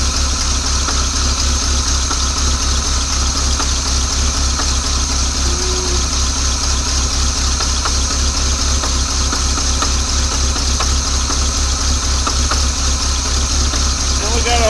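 A 1986 Chevy C10 pickup, abandoned for 15 years, idles on its own at a low, steady, rhythmic engine speed, close and continuous with a slight knock, a voice murmuring faintly in the background.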